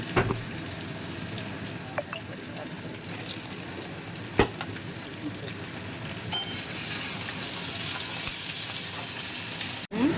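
Pieces of pointed gourd fry in hot oil in a pan, making a steady, close sizzle broken by a few sharp stirring knocks and scrapes.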